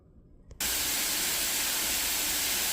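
Ground beef and onion patties hit a hot cast iron skillet and burst into a loud, steady sizzle that starts suddenly after a near-silent moment and holds unbroken, a close, bright hiss.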